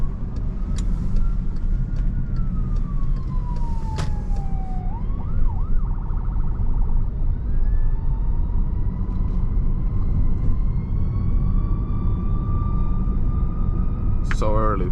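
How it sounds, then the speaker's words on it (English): An ambulance siren wails and yelps at a moderate distance over steady road and engine rumble from inside a 2017 VW Jetta, its pitch sweeping up and down across the stretch. "So early for ambulance right now."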